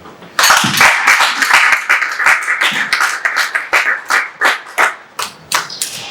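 Audience clapping at an awards and hall of fame ceremony, loud, close hand claps starting suddenly, settling into a rhythmic, pulsing clap pattern that continues steadily.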